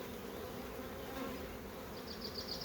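Honey bees crowding a brood frame pulled from a hive, a dense continuous buzzing drone, close and even throughout with no voices.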